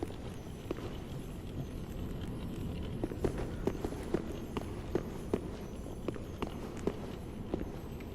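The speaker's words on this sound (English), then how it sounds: "I think it was my own footstep." A player character's footsteps in boots in Dark Souls 3, in the Grand Archives, a quick run of light treading taps under a low rumbling game ambience, without speech.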